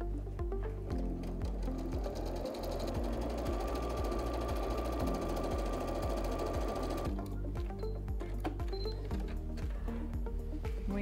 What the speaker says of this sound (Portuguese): a gente passa aqui a costura